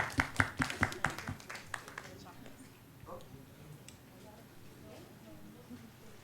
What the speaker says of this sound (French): All right, let's give them a hand.